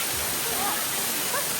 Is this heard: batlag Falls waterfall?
yes